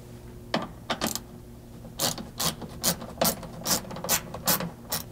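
Ratchet wrench turning bolts out of the rear cargo basket brackets on a two-door Ford Bronco, bursts of quick clicking pawl sounds repeating in close, rhythmic strokes, with no talking.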